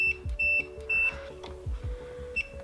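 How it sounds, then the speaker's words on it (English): A multimeter in continuity mode beeps while wiring is checked during a 1985 Fiero radio repair: a few short, close electronic beeps separated by pauses, mixed with low handling thumps. "With my multimeter set to continuity mode,"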